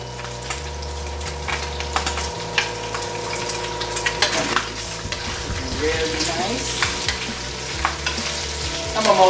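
Bacon and eggs fry together in a pan with a steady, close sizzle, broken by scraping and clinking as the food is stirred and flipped.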